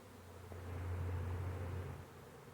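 A honey bee swarm with multiple queens fanning, giving a steady, low, droning hum that swells slightly in the middle and stays fairly faint and close throughout.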